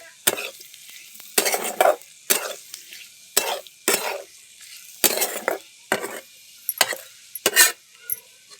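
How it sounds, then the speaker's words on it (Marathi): A spoon stirs and scrapes masala with turmeric in a pan for bitter gourd curry, repeated sharp strokes with a light sizzle in between, close and fairly loud, no talk. "हळद टाकली. आता हे परत चांगलं परतून घ्यायचं."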